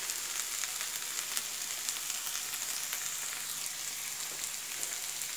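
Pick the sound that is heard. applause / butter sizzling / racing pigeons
butter sizzling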